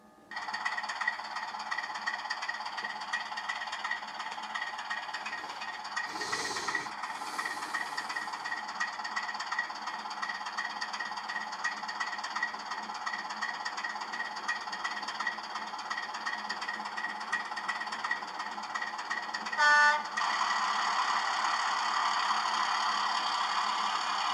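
A DCC sound-fitted Class 24 model locomotive starts up, giving a steady continuous diesel engine drone with hiss that holds for the whole stretch, broken by a brief sharper burst partway through and a short tonal blip near the end, with no talk.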